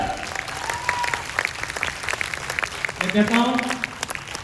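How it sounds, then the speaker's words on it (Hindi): Applause rolls steadily through an award-night hall in Bhagalpur, a dense crowd clapping under a host's amplified voice that talks over it almost the whole time. "मुस्कुराइए और क्लैपिंग कीजिए डियर फ्रेंड।"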